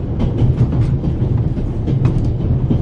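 A train runs along the rails with a steady low rumble and a faint rhythmic clickety-clack from the wheels, heard close and continuous, with no voices.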